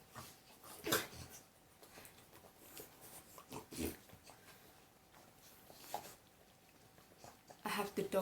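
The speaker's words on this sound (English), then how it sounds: "I have the dog licking my armpit" Dog licking and whimpering up close, with wet lapping, soft whines and small yips scattered unevenly, a person briefly audible nearby.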